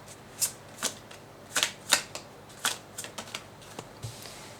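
Tarot cards are shuffled and drawn by hand in close, crisp bursts of riffling and snapping, a series of sharp flicks at irregular intervals with no speech.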